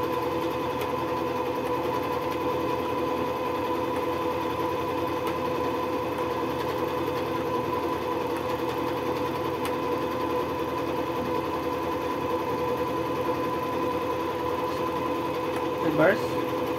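A Jaguar KY-001P sewing machine is stitching in reverse, with a steady, even mechanical whir and hum that runs unbroken for the whole clip, and a brief squeak near the end.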